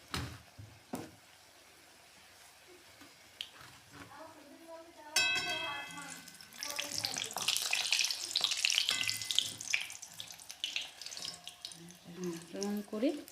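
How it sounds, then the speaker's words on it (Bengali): Food frying in a pan until reddish, a quiet stretch broken by a few knocks, then a bright crackling sizzle that swells and holds with scraping and stirring, a voice speaking briefly over it. "দেখুন এইটা লাল লাল করে ভেজে দিন"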